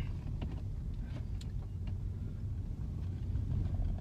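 A car pulling slowly away on a driving test route in Tallaght, heard from inside as a steady low engine rumble that swells slightly near the end, with no talking.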